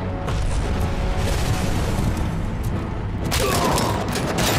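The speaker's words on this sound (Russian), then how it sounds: "Так, кто-то гранату кинул." A grenade goes off in the video game RoboCop Rogue City: a single heavy, rumbling boom erupts late in the clip over a constant low, noisy battle ambience.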